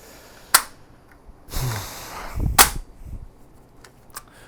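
Magazine change on an FN P90: a few sharp metallic clicks and clacks spaced over a few seconds, with a short rustle of handling between them, close and clear.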